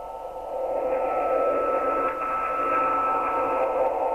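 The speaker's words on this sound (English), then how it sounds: "It's definitely a transmission on that frequency," Strange data transmission on the 11.175 MHz shortwave frequency, heard as a steady buzzing, warbling signal in constant static that starts half a second in and holds at an even, moderately loud level with no voices.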